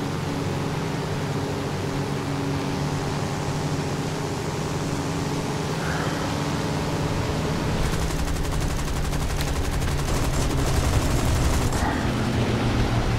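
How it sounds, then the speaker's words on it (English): Aircraft cannon and machine gun fire from a United States Air Force plane in War Thunder, short rapid bursts over a constant loud engine roar. "my gun sounds a little bit different. We've actually got two different sizes of guns. We got my Cannon and my MG."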